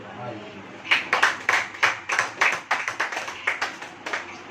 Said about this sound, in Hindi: ताली हो।